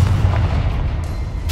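A Confringo blasting spell exploding in Hogwarts Legacy: a loud, continuous low roar of booming blasts that fills the whole moment, heavy and near, with no voices.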